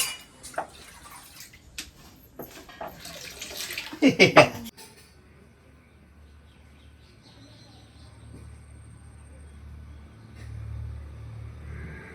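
Water is poured over a person's head at a Marathi wedding Kelvan ceremony, with close splashing bursts during the first four and a half seconds that peak near the end, then fade to a low, rumbling background.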